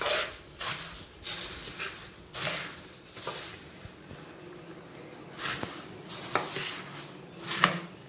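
Puffed rice is mixed into hot jaggery syrup in a pan for laddus, giving irregular scrapes and clatters of utensil on metal with brief louder knocks, close up and quiet.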